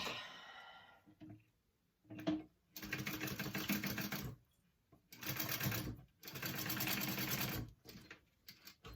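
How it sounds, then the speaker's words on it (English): A sewing machine stitches a quarter-inch seam along the crease of a fabric clutch in three loud, rapid bursts separated by short pauses, with a faint voice briefly at the start. "you're going to sew along that crease, which should be a 1/4 inch"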